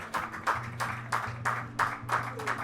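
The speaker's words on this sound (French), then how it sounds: "J'ai eu des applaudissements pour Delphine Boissy" An outdoor crowd claps for the stage winner of the Raid VTT des Monts d'Ardèche mountain bike race, thin scattered applause in uneven bursts with a steady hum beneath.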